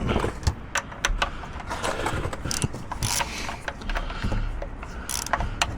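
A ratchet clicks steadily in a dense, fast rhythm while loosening the oil drain plug on a 2020 BMW G30 540i with a B58 engine, close up with metallic workshop clatter around it.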